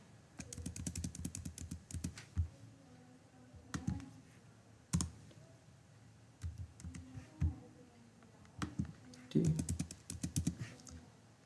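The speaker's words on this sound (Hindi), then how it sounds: "इसमें मैं अब लिखता हूँ उस फाइल का नाम" A file name is typed on a computer keyboard in quick bursts of close, crisp key clicks separated by short pauses, with a few louder single taps.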